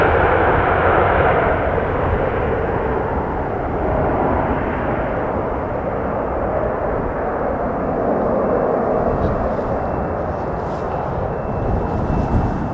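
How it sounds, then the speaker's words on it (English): A Boeing 737-700 airliner with a short fuselage departs from Schiphol runway 36L, its broad engine roar steady and loud throughout, a faint thin whine rising near the end. "Little 700 with a short fuselage."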